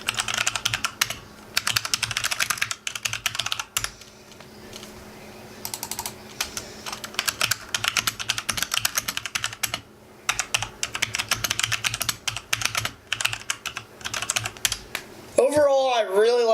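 Typing on a Logitech K840 mechanical keyboard: close, rapid clicky keystrokes in bursts with short pauses, plus a brief voice at the very end.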